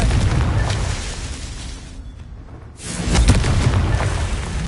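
Confringo fire spells blasting in the Hogwarts Legacy video game, a loud rumbling explosion roaring, dipping briefly, then a second heavy boom swelling back up with sustained crackling rumble.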